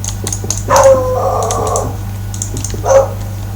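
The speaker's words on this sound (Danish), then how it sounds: "undskyld hunden i baggrunden, det er en af mine hunde" A dog barks a couple of times in the background, with short mid-distance yaps and a longer bark, over steady computer keyboard typing and a low electrical hum.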